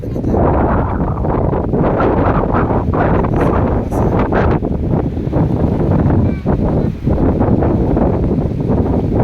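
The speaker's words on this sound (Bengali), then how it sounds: "দমকা হাওয়া বইতেছে।" Loud, steady wind buffeting the microphone with gusty roaring surges at a flooded wetland, continuous throughout with no clear voices.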